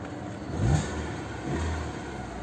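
A Tata Indigo Manza car engine idles quietly and gives two short revs, heard close and fairly faint with no talking.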